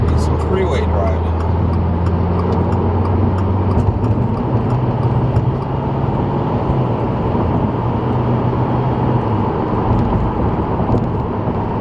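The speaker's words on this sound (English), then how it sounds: "We're gonna do some freeway driving." A car cruising on a freeway at night, with a steady, loud low road and engine drone running throughout and a voice talking over it.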